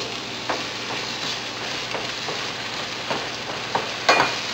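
Tomato sautéing in a pan for a seafood paella, a steady close sizzle of frying with soft stirring scrapes and a few sharper clinks and taps of the utensil against the pan.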